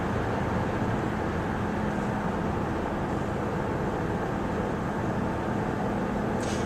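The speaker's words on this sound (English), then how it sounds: "you're going to hear how little wind noise this car has in it" Inside a 2010 Toyota Matrix cruising at highway speed, a dense, even rumble of road and wind noise holds steady throughout, with no talking.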